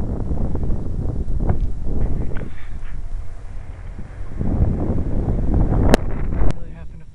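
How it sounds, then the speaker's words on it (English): Strong, gusting wind at an airfield buffets the microphone in heavy low rumbling blasts that rise and fall, with brief higher whines and clicks near the end and no speech over it. "Yeah, I'd say it's extreme wind now. It's gusting a lot more."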